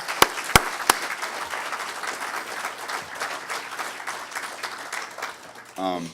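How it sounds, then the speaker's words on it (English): Conference crowd at a security convention's closing awards applauds sponsors: a few sharp loud claps up front, then sustained, dense clapping across the room, with a voice starting to speak at the very end. "So everybody, a round of applause for all of our sponsors"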